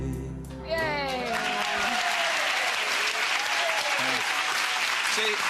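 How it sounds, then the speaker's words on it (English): Studio audience applauding after a song on a TV talk show, loud sustained clapping with a few cheers that swells in just after a brief held musical note and carries on steadily to the end. "a very little bit of that applause was for the music, but a lot of it was for the dog"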